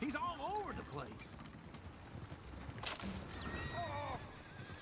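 Horses in a video game whinny loudly twice, with hooves clip-clopping and general commotion underneath throughout.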